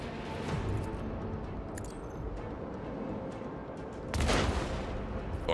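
Torpedoes fired at starships in a Warhammer 40k: Rogue Trader space battle rumble as a steady low barrage, then a heavier blast lands near the end.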